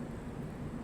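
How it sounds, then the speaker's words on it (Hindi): A low, steady rumble of thunder rolls on over a railway station, dull and distant-sounding, with no voices. "बादल गरजने की आवाज़ आ रही है"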